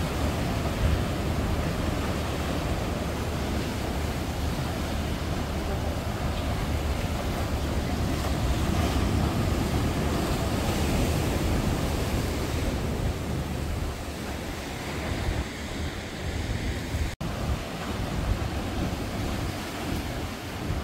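Steady roar of ocean surf breaking against submerged rocks on the coast at Gonghyeonjin, South Korea, continuous and loud, with wind buffeting the microphone throughout.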